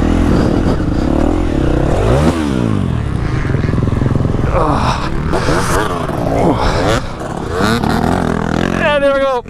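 A friend's dirt bike revving hard with rising and falling engine pitch, ending in a crash into dirt with clattering and scraping, loud and close, while the rider shouts and talks throughout.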